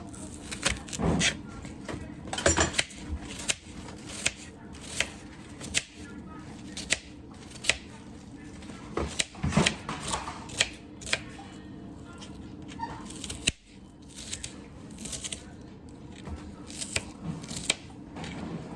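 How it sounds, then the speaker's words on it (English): A knife cuts up a whole red onion on a cutting board, a close, irregular series of sharp chops and taps with brief pauses between strokes. "I'm going to chop up my onion."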